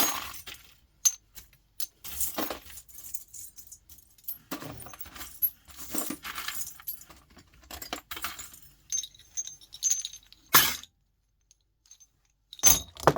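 Scrap brass rings clinking and jangling as they are handled in a bucket, in irregular bursts of bright metallic chinks and rattles, close-up, separated by short quiet gaps, with no speech.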